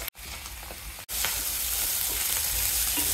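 Spices sizzling and frying in a pan for spicy chicken pulao, a steady loud crackle that runs throughout with two brief dropouts near the start and no talking.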